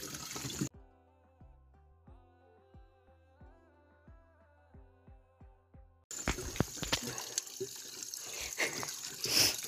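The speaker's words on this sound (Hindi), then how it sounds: "ये रहा पानी, वहाँ से दब गया है ना, इसलिए सारा पानी यहीं आ रहा है।" Water from a natural village spring in Pauri Garhwal, Uttarakhand: a brief splashing trickle, then a melodic music passage, then steady close rushing flow to the end.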